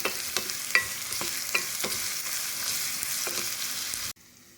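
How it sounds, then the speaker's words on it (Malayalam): Ginger, garlic and green chilli sauté with browning onions in a pan, giving a steady sizzling hiss broken by regular scrapes and taps of a stirring spoon before the sound cuts off. "ഇനി നമുക്ക് ഇഞ്ചി വെളുത്തുള്ളിയും പച്ചമുളകും ഇടാം. നല്ലപോലെ വഴറ്റാം."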